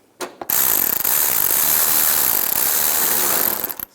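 A ratchet or power driver runs a 7mm screw down into a car's windshield washer reservoir, a loud continuous close-up buzzing for about three seconds, with a brief click just before it starts.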